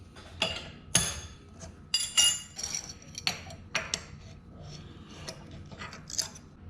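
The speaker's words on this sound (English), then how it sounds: "I'm now going to go in with the helicoil tap." A helicoil tap is cranked into drilled holes in a 302 engine block, giving close, irregular metallic clicks and clinks from the tap handle and tools, fairly quiet between bursts.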